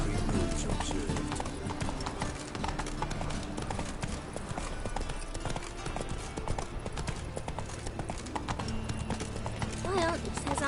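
Horse hooves clip-clopping in The Witcher 3 video game, a steady rhythmic stream of close hoofbeats throughout, with voices speaking over them and a brief whinny near the end.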